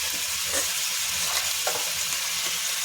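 Spiced masala sizzling and frying in a pan as water goes in, a continuous loud hiss with brief bursts of stronger sputtering, no voices.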